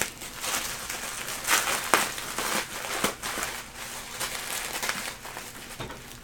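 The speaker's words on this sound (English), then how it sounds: "Now we're getting into some shrink wrap items that appear to have some weight to them." Shrink-wrapped items with some weight to them being handled while unpacking a box of goodies, giving close, soft crinkling and crackling plastic rustles in irregular bursts, a few sharper crinkles standing out, with no talking.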